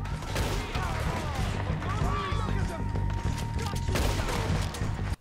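Gunshots in Red Dead Redemption 2 during a story-mode shootout: rapid, overlapping cracks and booms in a steady barrage, loud and close, with a ringing tone and other game sounds layered underneath.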